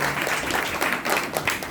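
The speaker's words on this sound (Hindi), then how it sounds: "एक बार ताली तो हो जाए" Brief burst of audience applause during a Jain scripture class, steady overlapping claps from a seated group for under two seconds.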